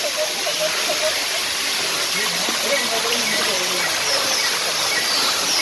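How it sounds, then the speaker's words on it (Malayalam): Paloorkotta waterfall gives a constant loud hiss of falling water that fills the scene, with faint voices and scattered tonal squeaks woven under the roar. "Beautiful waterfall."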